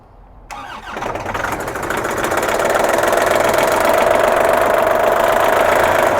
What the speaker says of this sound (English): We're going to fire up the machine